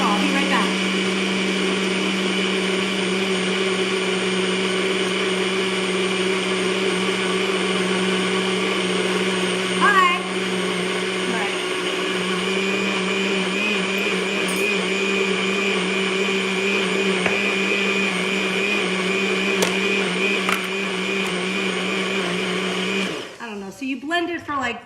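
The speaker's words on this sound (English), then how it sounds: "You start the blender now." A blender roars steadily and loudly for about 23 seconds while blending a protein coffee freeze, then cuts out near the end with some handling clatter.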